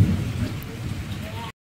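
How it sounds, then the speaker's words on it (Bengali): Heavy rain pours down steadily in a sustained, dense hiss during a long downpour at home, close and loud throughout before cutting off abruptly. "এই দেখো কি পরিমাণে বৃষ্টি হচ্ছে।"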